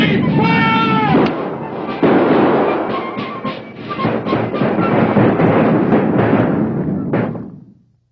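Musket volley in a dramatized battle scene: a loud ragged burst of overlapping gunshots and crackling reports following a shouted command, close and booming, then fading into a rumbling tail.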